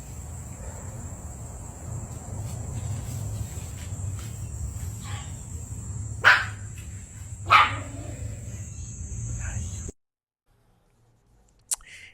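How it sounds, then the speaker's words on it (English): A small dog gives two sharp barks at a distance over a steady hum of crickets and insects. Voices are heard faintly around the barks. "And the little doggy gets into the argument."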